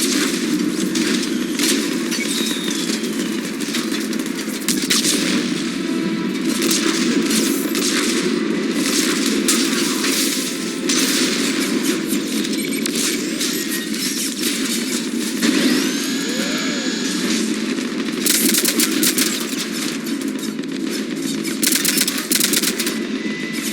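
Sustained cannon and rapid gunfire from a mech battle in the video game Mass Effect 3, a dense, loud barrage of shots and explosions running continuously throughout with no speech.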